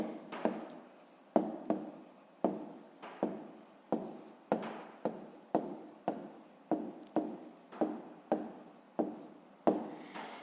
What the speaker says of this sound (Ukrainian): Ну що ж, а тепер записуємо відповідь. Пишемо відповідь.